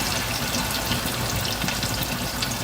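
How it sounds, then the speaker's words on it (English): Oxtails frying in hot oil, cooked alongside cabbage and yellow rice, give a steady, close sizzling hiss that runs evenly throughout with no voices. "When it's sizzling like that, all around is cooking."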